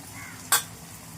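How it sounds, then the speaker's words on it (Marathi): Agri masala with Kashmiri red chilli, coriander-cumin powder and garam masala sautéed in oil for a Konkani dried bombil dish: one quick stir makes a brief scraping sizzle against a quiet background. "ते तेलामध्ये मसाले चांगले परतून घेतले"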